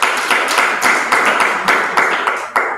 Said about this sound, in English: That's why we still have to clap for them.